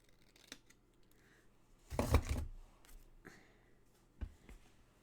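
Paper snipped with scissors while making a 6 x 6 mini album from old papers: one dense burst of cutting near, with a few softer snips and rustles around it.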